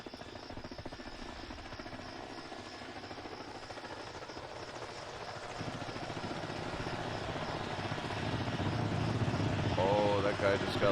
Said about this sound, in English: Choppers are coming in.